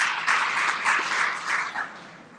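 A room audience applauds a speaker at a business speaker series, a dense steady wash of clapping that holds for a couple of seconds, then thins and fades out.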